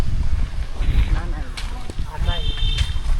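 Steady wind buffets the microphone outdoors on a farm, with low rumbling gusts and people talking faintly underneath.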